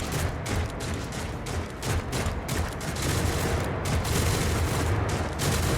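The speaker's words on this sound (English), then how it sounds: "Oh, that's a cannon." Cannon fire in the Warhammer 40,000: Rogue Trader video game, a dense, continuous barrage of booming shots and rattling bursts that stays loud throughout without letup.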